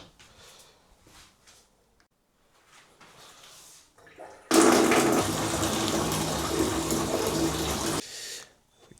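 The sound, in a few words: water running from a tap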